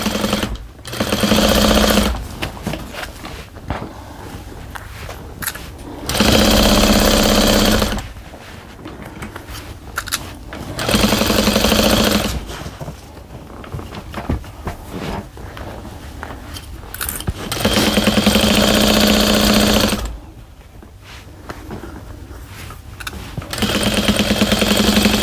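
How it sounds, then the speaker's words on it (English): A sewing machine stitches a receiving blanket in several loud, steady bursts of a few seconds each, separated by quieter pauses while the fabric is repositioned. "And then sew right off of that."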